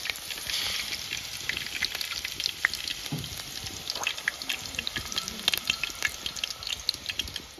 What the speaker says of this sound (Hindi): ये सभी जो पूरी है इनको हम अच्छे से थोड़ा सा फ्राई कर लेंगे क्रिस्पी होने तक